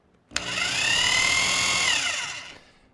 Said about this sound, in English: First off, over here, we're going to have just our standard rotary drill.